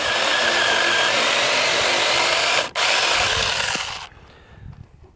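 A SEYVUM mini cordless electric chainsaw with a 6-inch bar whines loudly and steadily through wood, briefly dipping mid-cut before the motor cuts off and the sound falls away to near quiet.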